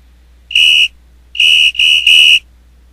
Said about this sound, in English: this is a whistle